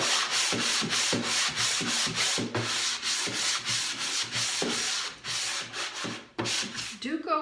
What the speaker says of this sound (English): And now I'm going to smooth out this area